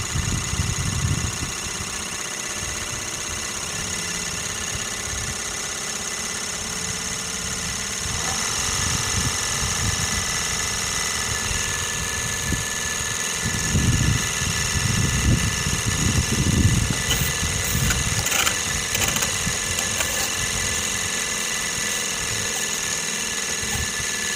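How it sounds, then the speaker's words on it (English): A small steam engine driving a generator runs steadily at about 1800 RPM for a long stretch, a continuous low mechanical rumble with uneven throbbing pulses and some faint clanking, with no talking. "the engine was running about 1800 RPM"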